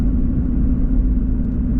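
A 2020 Nissan GT-R drives along a road with a steady, close engine rumble and road noise, the drone holding even and low throughout with no talk.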